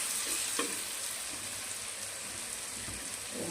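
Potatoes frying in hot oil with tomato in a pan, a continuous loud crackling sizzle with faint stirring knocks, heard close with no speech.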